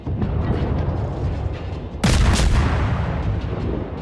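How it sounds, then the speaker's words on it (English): Naval gunfire from an enemy ship in World of Warships: a sustained low rumbling of ocean and engine, then a sudden heavy boom of a shell salvo that rings out and decays, with no speech. "Now he's shooting at me."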